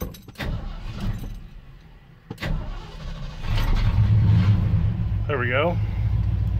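A car engine fitted with a carburetor cranks and catches, then settles into a steady, loud idle, after clicks and a key jangle; someone speaks briefly as it starts.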